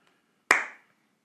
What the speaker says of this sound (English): Let me do another clap.